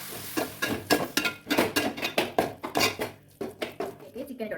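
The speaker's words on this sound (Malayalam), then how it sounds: "എന്നിട്ട് നന്നായിട്ട് ഇളക്കി കൊടുക്കാം കേട്ടോ" A spoon scraping and knocking against a pot while chicken curry masala with tomato paste is stirred, giving a quick run of about a dozen rhythmic clatters up close.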